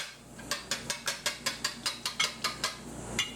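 Wire whisk beating eggs in a bowl while making eggplant parmesan, a quick run of about fifteen sharp rhythmic metallic clicks and scrapes, close and fairly loud with no talking.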